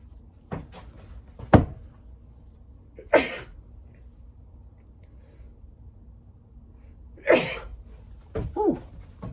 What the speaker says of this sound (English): Sneezed. Dust flying in there.